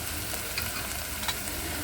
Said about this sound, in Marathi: फोडणीमध्ये कांदा आणि बटाटा पण घातलेला आहे आणि तो आपण शिजवून घेतो